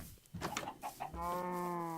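Minecraft chicken clucking in a short series of brief calls close by, ending in a steady tonal squawk, with game background sound behind and no talk.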